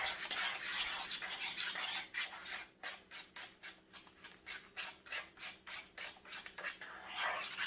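An egg being mixed into mashed sweet potato casserole in a bowl, with rhythmic scraping and rubbing strokes of a utensil against the bowl that repeat steadily, fairly quiet and close.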